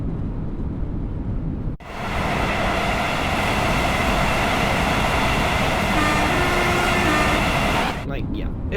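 An Avanti West Coast Class 805 train runs in a railway driving game, a loud, continuous rumbling roar with a brief dip near the start, sustained at constant level throughout.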